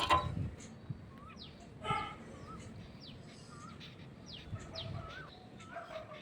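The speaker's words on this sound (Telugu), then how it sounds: "మధ్య మధ్యలో పక్షులు కూడా వస్తుంటాయండి." Birds calling around a terrace garden, short rising chirps repeated every second or so over a faint background hum, with a couple of brief louder bursts near the start.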